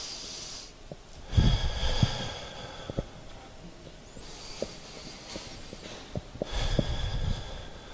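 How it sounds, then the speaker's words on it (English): Slow, deep breaths drawn in through the nose and let out through the mouth, two long audible breathing cycles separated by a quiet pause, close and soft, with no talk. "let's go ahead and start by taking a deep breath in through our nose, and then out through the mouth"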